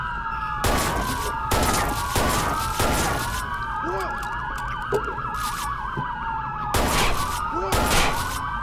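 Police sirens wail loudly and continuously in the Watch Dogs video game, cut by repeated bursts of rapid gunfire, with people talking over the chaos.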